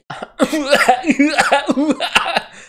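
A rapid string of harsh, exaggerated coughs, loud and close, repeating in quick bursts with strained, voiced edges for nearly three seconds.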